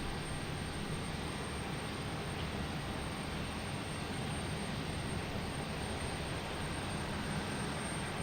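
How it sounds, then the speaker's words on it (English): An American Airlines Boeing 737-800 lands at Boston Logan Airport with a constant broadband jet roar. The sound holds steady and loud for the whole stretch, with no voices over it. "American Airlines, 737-800, coming in from Cleveland."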